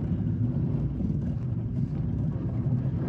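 A 2021 Infiniti QX80 drives off-road in four-wheel-drive auto with traction control off, its engine giving a steady, loud low rumble mixed with wind buffeting, with no speech.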